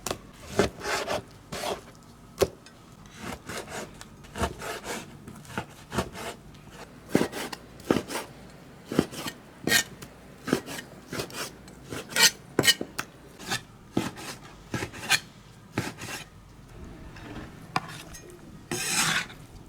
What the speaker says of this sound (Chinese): 把洗干净的五花肉切成大小均匀的块儿。